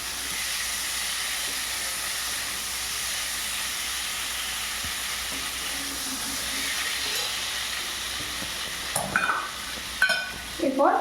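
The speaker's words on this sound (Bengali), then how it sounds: "মশলাটাকে আবারও কষাতে হবে" Spiced potato masala with ginger is sautéed in a pan, a steady soft sizzle and hiss running throughout, with scraping stirs and clatter of the utensil toward the end.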